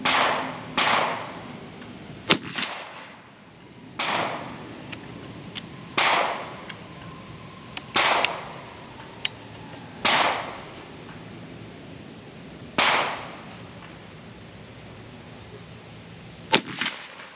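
Airforce Texan .357 air rifle firing Pro Slugs at a 50-yard target: about nine sharp, loud shots spaced a couple of seconds apart, each with a short decaying tail, with a few faint clicks between them and no talking.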